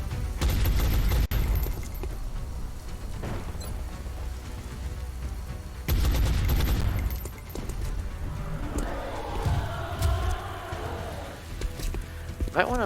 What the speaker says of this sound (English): you might as well just sit back and fire a couple of times